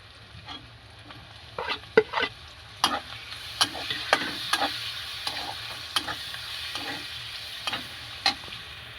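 Prawns hit a pan of browned onions and fry with a steady sizzle, while a spatula scrapes and taps through them in sharp, repeated strokes up close.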